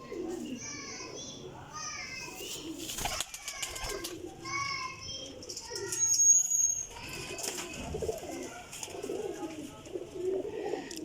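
Teddy pigeons coo softly amid a busy outdoor scene with children playing and chattering nearby; a brief burst of wing flapping occurs partway through.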